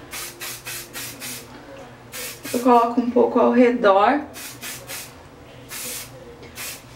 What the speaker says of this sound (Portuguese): Eu venho com hairspray, com spray.